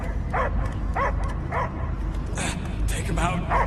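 A dog barks, yips and whimpers in the video game Guardians of the Galaxy, with repeated short barks over a dense game soundscape and voices talking throughout.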